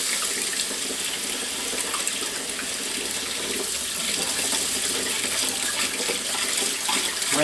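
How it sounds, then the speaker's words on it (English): Tomato seeds being rinsed under cold running water from a tap, a continuous loud splashing rush that stays steady from start to finish. "Let's give them a rinse in cold water."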